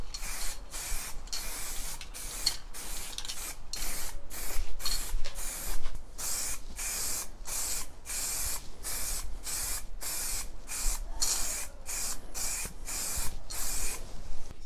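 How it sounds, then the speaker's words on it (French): Spray can of matte black paint coating a tube in repeated short hissing bursts, about two dozen quick sprays in an irregular rhythm with brief pauses between, close and fairly loud. "je vais utiliser une bombe de peinture noir mat et puis je vais peindre mon tube à longe"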